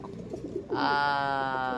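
Racing pigeon giving a close, clear coo with a rich harmonic tone that swells in after soft low murmuring sounds, sustained for about a second.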